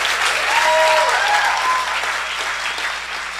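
A crowd at a Nerd Nite science talk night in the East Bay applauds a speaker. The close, lively clapping is dense for a few seconds, with a few brief whistles near the start, and then gradually thins.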